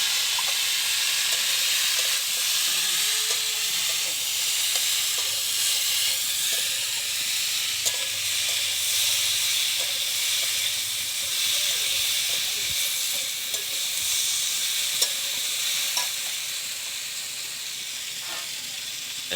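Bori lentil dumplings frying in a pan for pumpkin-leaf chorchori, giving a continuous even sizzle and hiss with scattered small crackles throughout.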